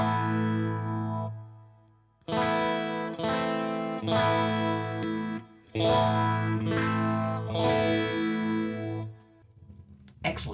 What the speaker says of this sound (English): So let's listen to the Eddie Van Halen phase sound.